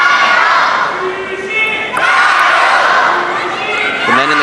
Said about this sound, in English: The men in the crowd cheering for Xu Xin